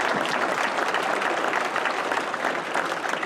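Audience at a celebration of life memorial service applauding, a moderately loud, continuous patter of many hands clapping, fairly close and steady throughout.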